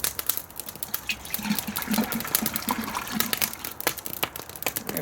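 Milk (3.2% fat) pours from a freshly opened carton into an Afghan kazan, a close, continuous gurgling glug with irregular splashy bursts.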